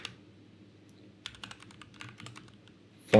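Keys tapped on a computer keyboard while code is typed, a quiet irregular patter of clicks ending in one louder key press.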